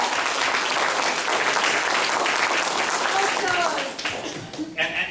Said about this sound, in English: I think we owe him a round of applause for just how incredible a race he ran last year for mayor